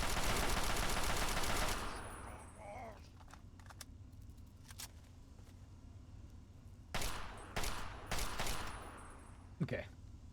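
A Chinese weapon fires in the video game Fallout 3: a loud, rapid burst of automatic gunfire opens the clip, followed by quieter stretches and a few shorter bursts later on.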